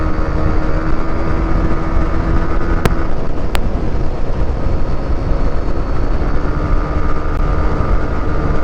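Motorcycle, a Yamaha Aerox scooter, cruising at quarter throttle around 100 on a group ride, giving a steady, loud engine drone with heavy wind rush and no speech.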